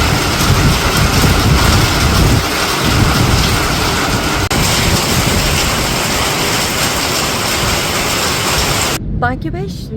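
Heavy, slanting village downpour roars throughout with deep rumbling thunder underneath, ending abruptly in a brief quiet moment.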